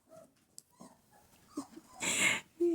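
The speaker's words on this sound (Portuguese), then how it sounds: "Vocês têm ouvido latidinho, chorinho, ó." A pet dog whimpers and cries softly in short, breathy bursts, with a few higher whines and a louder sharp yelp near the end, heard close in a quiet room.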